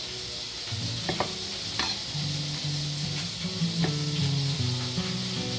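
Swordfish searing in a hot pan gives a steady sizzle beneath intermittent knocks and tonal clinks of kitchen prep nearby, with no talking.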